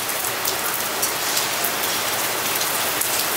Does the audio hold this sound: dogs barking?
no